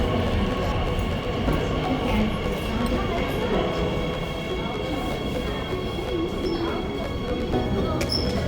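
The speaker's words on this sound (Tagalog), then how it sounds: "Ayan na, may train na." Metro train pulling into a Beijing subway station, a steady loud rumble and rail hum filling the platform, with a faint squeal near the end and people talking in the background.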